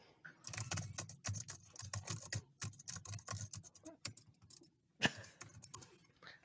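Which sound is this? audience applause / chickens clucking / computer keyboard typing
computer keyboard typing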